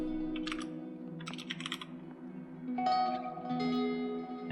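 Keys clack on a computer keyboard as a location is typed into a website search box, a few quick bursts of light tapping with brief pauses, close and fairly quiet, no talking.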